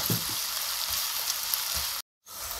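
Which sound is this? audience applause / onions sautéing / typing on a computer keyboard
onions sautéing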